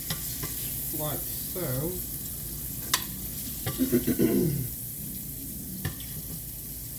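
Liver frying in a skillet, with a steady close sizzle running throughout and brief clatter of pieces being lifted out of the pan; a voice talks over it near the start.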